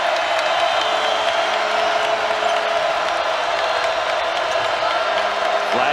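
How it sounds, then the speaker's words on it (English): A live college basketball crowd at an Oklahoma State home game against Baylor keeps up a loud, steady roar with a thin whistle-like tone running through it, with no break and no clear single shouts. "It's been a really good live crowd here tonight."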